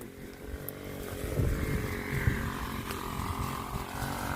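A motorized cutting machine drones steadily at moderate distance, its engine buzzing continuously with slight fluctuations in pitch.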